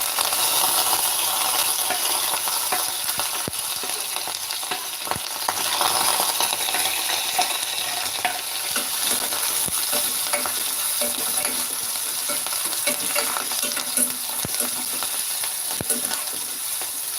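Onions frying for rava upma, giving a loud continuous sizzle close up, with a spoon scraping and clinking against the pan at irregular moments throughout.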